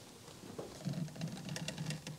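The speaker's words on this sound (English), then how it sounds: "Oh, my windshield, it's raining." Rain patters softly on a car windshield, with faint, irregular light taps that thicken slightly toward the end over a quiet background.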